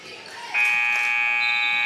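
An end-of-quarter buzzer sounds in a high school gym during a girls' basketball game, starting abruptly and holding as a loud, steady electronic tone with faint crowd noise beneath.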